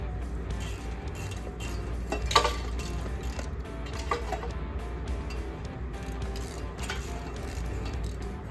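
A ratchet wrench works on an engine manifold bolt on a 350 small block Chevy, giving scattered clicks and a few sharper metallic knocks over a steady low background hum, with no voice.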